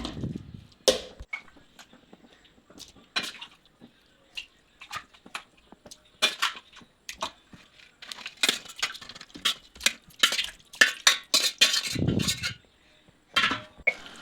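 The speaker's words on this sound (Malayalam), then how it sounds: "നല്ല പോലെ ഒന്ന് മിക്സ് ചെയ്യുക." A spoon scrapes and clinks against a pan while chicken is stirred for chicken chukka, in sporadic close knocks and scrapes with quiet gaps and no talking.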